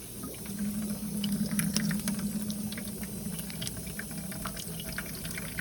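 Water poured out of a plastic fish shipping bag used to carry angelfish: a steady, close trickle and splash into a container that runs continuously at even volume, with no voices over it.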